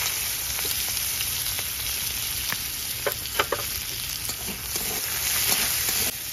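Onions sizzle steadily in hot oil left from frying fish, close and loud, with scattered pops and the scrape of stirring throughout.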